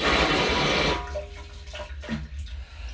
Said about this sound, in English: Oh, we already have water coming out of the TMP.